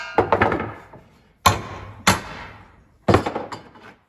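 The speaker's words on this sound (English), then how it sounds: "Break that other weld." Hammer blows knock off a weld on the front cross member of a 1961 Cadillac Sedan Deville: four loud, close metallic impacts spaced about a second apart, each with a short ringing decay, and no talk.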